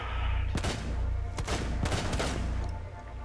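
Gunfire in the video game Rainbow Six Siege: several sharp shots and short bursts crack over a steady game rumble, the louder ones spaced irregularly through the stretch, with no talk.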